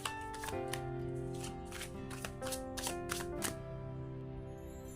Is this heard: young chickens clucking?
no